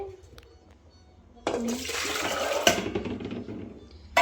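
Quiet at first, then a sudden rush of splashing water as something is rinsed, sloshing for a few seconds.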